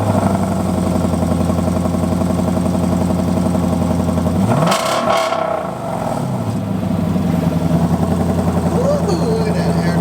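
A 2010 Lexus LS460 fitted with a new Megan muffler rumbles near and loud, with a sharp rev swelling and dropping midway while people talk over it.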